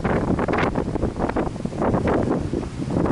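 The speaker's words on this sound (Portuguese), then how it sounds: "O vento aumentou um pouco" Wind blowing into a microphone outdoors in a luxury neighborhood of Miami, Florida, a loud, continuous buffeting roar that surges and dips in gusts.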